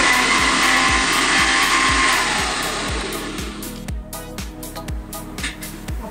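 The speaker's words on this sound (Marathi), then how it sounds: "आता पहिला हे मिक्सर मधून ग्राइंड करून घेतलंय" A kitchen mixer grinder runs loud and steady, blending plain curd without water for lassi, its motor whine continuous with rhythmic low thumps, then the pitch shifts and the tone turns rougher in the second half.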